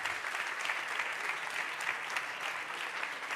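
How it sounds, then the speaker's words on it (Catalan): An audience applauds after a cooking session with a chef in Barcelona, a steady wash of many hands clapping, fairly quiet and distant, with no talk over it. "aplaudiment fortíssim al Jordi Vilà."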